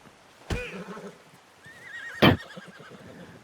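Two horse whinnies in Red Dead Redemption 2, a short snort-like call early then a louder, wavering neigh about two seconds later, heard alone against a quiet background.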